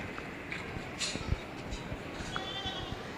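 A meat goat bleats at a 4-H/FFA goat show, a few short faint cries against steady crowd and arena noise.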